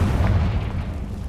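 Confringo blasting curse in Hogwarts Legacy erupting as a dense, loud low-end boom that rumbles on steadily through the whole moment, with no voices over it.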